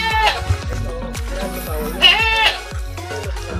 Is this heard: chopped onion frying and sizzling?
no